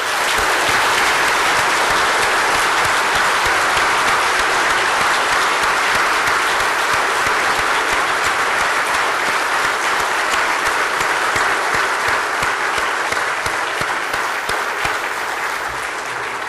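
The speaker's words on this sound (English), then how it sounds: "And now join me in a round of applause, and let's wish Mr. Lee Kuan Yew a happy birthday today." Prolonged, loud applause from a standing audience at a formal gathering honoring Lee Kuan Yew's birthday, dense crowd clapping sustained for over fifteen seconds and tapering slightly at the end.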